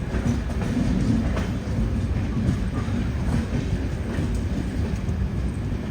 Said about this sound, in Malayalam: ഇവിടെ ജോധ്പൂർ ജംഗ്ഷൻ റെയിൽവേ സ്റ്റേഷനിലേക്ക് ഇതാ നമ്മുടെ ട്രെയിൻ എത്തിക്കൊണ്ടിരിക്കുകയാണ്.